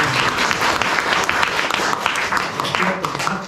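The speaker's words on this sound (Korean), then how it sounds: "우리 다 같이 박수로." A church congregation claps together to welcome a visiting pastor, with a dense, sustained round of applause from a roomful of people and a few voices mixed in.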